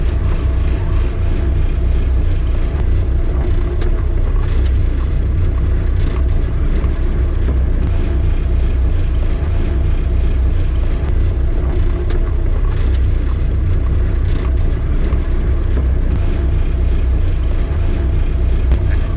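A small diesel engine in a right-hand-drive Jeep Wrangler TJ drives off-road, a steady loud low rumble with road whir running throughout, with no talk over it.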